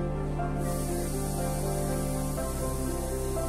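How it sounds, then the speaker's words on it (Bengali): Okra coated in salt and turmeric fries in hot mustard oil in a wok, making a loud, continuous sizzling hiss over a low steady hum, with no talk. "এবার তেলটা গরম হয়ে গেলে এখানে নুন আর হলুদ দিয়ে মেখে রাখা ভেন্ডিগুলোকে ভেজে নেব।"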